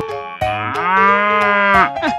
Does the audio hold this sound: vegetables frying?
no